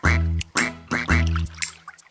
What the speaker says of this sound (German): Fünf kleine Entlein schwimmen durch das Schilf.